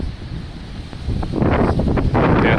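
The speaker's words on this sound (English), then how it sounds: "Very windy right now." Strong wind gusting across an island, roaring and buffeting the microphone with a constant low rumble that grows louder and rougher in the second half, with no voices heard.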